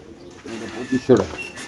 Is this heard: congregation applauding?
no